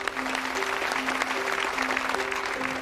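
An audience at a cooking competition's opening ceremony claps steadily to welcome a speaker on stage, a dense, even wash of applause, with music tones sounding underneath.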